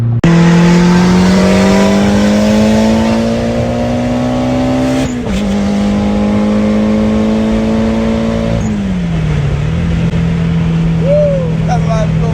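A cheap turbocharged Honda Integra accelerates hard through a pull, its engine note climbing loud and close through the gears with a shift dip in between, heard from inside the car.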